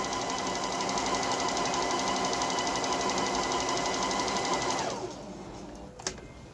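A Juki HZL-T8201 sewing machine runs a simple straight stitch at steady speed, a fast even whirring rattle that continues alone for about five seconds, then stops, followed by a single brief click.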